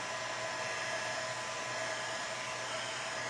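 A hair dryer runs steadily and loud at close range, drying hot glue on small pumpkins made from Jenga blocks, a continuous airy whoosh with no talking.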